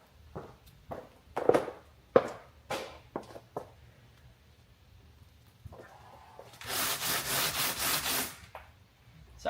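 Hand sanding of a car body kit with coarse 60-grit sandpaper: scratchy, separate rubbing strokes, then a longer, denser run of rapid back-and-forth strokes, close and fairly loud.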